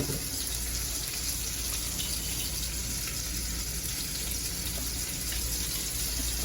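A pot of noodles boils on a stove in a hotel room, giving a steady, even rush of bubbling water with no pauses throughout.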